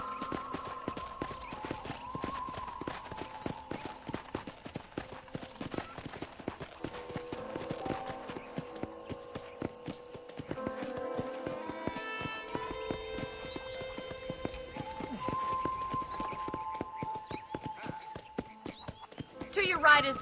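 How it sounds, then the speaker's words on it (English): Horse hooves clip-clopping in a Red Dead Redemption ranch scene, a steady rhythmic trot running throughout under game dialogue and music, with an occasional whinny. "let's see if you can still ride a horse"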